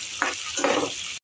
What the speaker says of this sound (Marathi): शेंगदाणे, कढीपत्ता आणि कांदा तेलात चांगला परतवून घेऊ